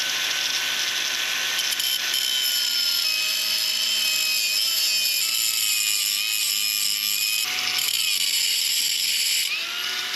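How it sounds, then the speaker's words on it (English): An angle grinder cuts through the steel collar of a locking lug nut on a car wheel, a loud sustained high whine with shifting pitch and brief dips as the disc bites. "The angle grinder got that collar off"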